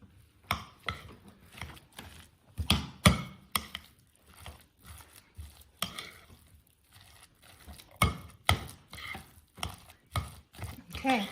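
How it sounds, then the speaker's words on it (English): Chickpea tuna salad being mixed with Vegenaise and spices in a bowl, a run of uneven wet scraping and knocking strokes close by, some sharper clacks of utensil on bowl. "mixing this to ensure that all of my spices here gets incorporated into the mixture"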